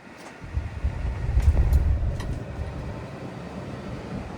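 Peterbilt 567 quad-axle dump truck engine cranking and catching, a deep low rumble that swells briefly and then settles into a steady idle, close and fairly loud.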